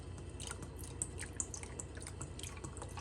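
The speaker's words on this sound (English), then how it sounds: "Okay, so now just pour the drink." Margarita poured into a glass over ice: soft, steady liquid trickling and dripping with a few bright splashy clinks, quiet and close.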